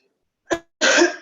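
A short sharp cough followed by a longer, rougher cough, close and loud, with silence before them.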